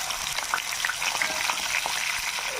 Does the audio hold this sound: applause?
no